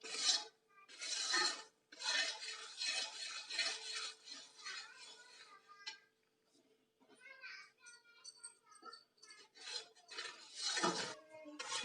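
A ladle scrapes and stirs thickening jaggery syrup in a kadhai, with faint metallic rubbing and clinking heard beneath steady nearby talking.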